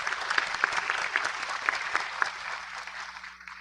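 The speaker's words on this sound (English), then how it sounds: "I want to applaud our local diplomats" Applause from an audience at the inaugural Global Biodiversity gathering, a dense steady patter of many hands that holds full for about two seconds and then thins and fades away.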